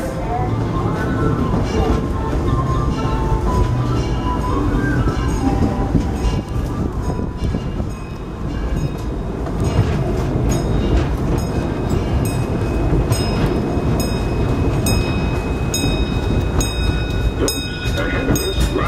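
Riding aboard the Disneyland Railroad, a steady loud rumble of wheels and rolling cars with rhythmic clicks and occasional metallic squeals, continuous throughout, with a voice speaking over it at times.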